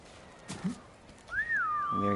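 A rising and falling whistle in Ghost of Tsushima, a player calling a horse, with a brief thump beforehand and a voice beginning at the end.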